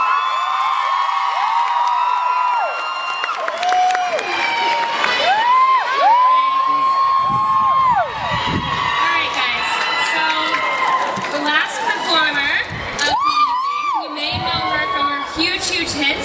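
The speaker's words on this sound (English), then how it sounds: "Applause, everybody." Crowd at a Twilight Saga fan event cheering, whooping and shouting loudly with excited high-pitched screams rising and falling over the whole stretch, close and energetic.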